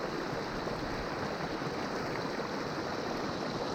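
Shallow river water rushes steadily over sticks and big rocks near a waterfall on the Middle Fork of the Holston River in winter, a constant close wash of flow with no voices.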